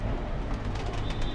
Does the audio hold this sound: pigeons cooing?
yes